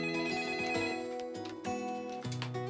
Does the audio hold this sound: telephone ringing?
yes